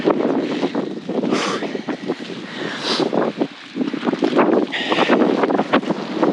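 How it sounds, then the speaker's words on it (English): Strong gusting wind on a mountain summit, buffeting the microphone in a loud, continuous roar that swells and dips over several seconds, with no voices. "Oh, the wind."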